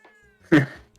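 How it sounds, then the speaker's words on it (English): A house cat lets out a single loud, short meow close to the mic, rising then trailing off against a quiet room with a faint tonal hum. "Oh, my cat says hello also."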